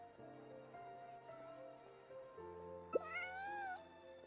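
A cat meows once in Genshin Impact, a short rising-falling call that stands out over a steady layer of game music.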